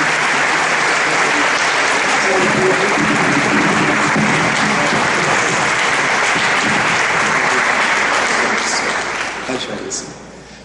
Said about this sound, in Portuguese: Vamos aplaudir o Senhor, recebendo o nosso querido irmão.